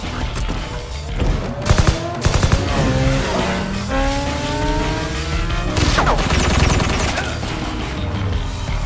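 Gunfire in a Deadpool film action scene, with several sharp shots and bursts amid squealing tires, roaring car engines and crashes, all loud and dense, mixed with score and effects.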